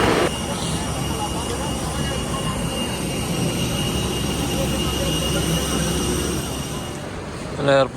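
Jet engines of an Air India Express airliner, just landed at Bangalore airport after a flight from Kochi, give a steady, loud roar that fills the clip, with a clattering burst right at the end.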